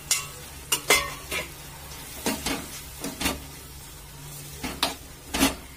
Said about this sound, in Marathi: त्याच्यामध्ये आपण हे फ्राय केलेले सिमला मिरची आणि कांदा टाकणार